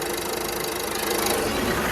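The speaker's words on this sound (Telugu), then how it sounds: "సింగిల్ సెల్ఫ్లో కార్ స్టార్ట్ అవుతుంది" A 2017 Ford EcoSport Titanium engine starting and running with a steady mid-pitched rumble and knocking vibration, close by, slightly louder toward the end.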